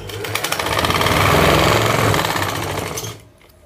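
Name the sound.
sewing machine stitching the centre of an elastic waistband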